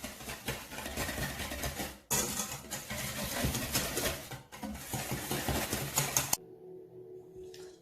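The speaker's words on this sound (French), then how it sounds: "Et alors on mélange tout simplement" Milk is stirred into gingerbread batter in a bowl, giving repeated wet scraping and sloshing strokes for about six seconds before the sound stops abruptly into quiet room tone.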